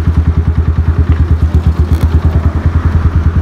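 Mojo 200 motorcycle engine idling and running steadily up close, a loud, even low-pitched thumping pulse with some mechanical clatter and no talk.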